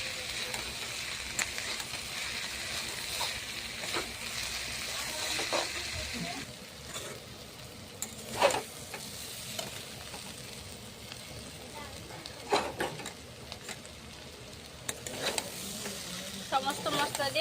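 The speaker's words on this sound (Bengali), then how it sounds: "সমস্ত উপকরণগুলো দিয়ে ভালো করে ভেজে নেব।" Bitter gourd, potato and onion frying with salt, chili powder, turmeric, roasted cumin and coriander powder, a soft continuous sizzle with occasional stirring scrapes and clinks, under a little talk.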